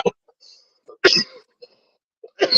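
A few short, harsh coughs or throat-clearing bursts, close and fairly loud, separated by quiet gaps.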